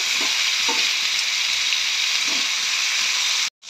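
Salted vegetables fry in oil in a covered pan, giving a loud, dense, continuous sizzle that runs unbroken for a few seconds and then cuts off abruptly.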